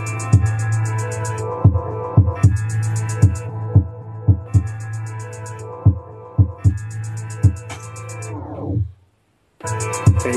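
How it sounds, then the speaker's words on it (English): Beat repeat effect on an MPC sampler chopping a drum-and-bass loop into stuttering repeated hits, followed by a tape-stop slowdown, a brief silence and the loop restarting, loud and close with no talk. "Beat repeat."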